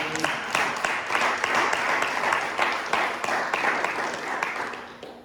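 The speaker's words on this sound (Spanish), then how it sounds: "Denle un aplauso a Jesús." A church congregation applauds for Jesus in dense, steady clapping that fills the room for several seconds, with scattered voices mixed in and the sound tapering slightly at the end.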